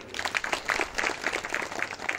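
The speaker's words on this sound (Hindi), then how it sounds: "मैडम के लिए तालियां बजाओ" Sustained applause from an audience clapping for someone speaker at a talk, a dense steady patter of many hands with no voices over it.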